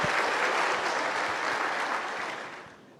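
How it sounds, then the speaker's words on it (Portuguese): Dense audience applause at a church conference as two preachers are welcomed, steady and full before tapering off toward the end. "Vamos receber com a salva de palmas nossos pregadores, pastor Robert Leir e o pastor Joel Kominski."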